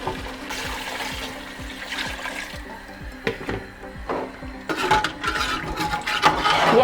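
Water poured from a jug into a pot of beef paya broth, a steady splashing pour with clinking pot sounds, close and moderately loud, with no talking.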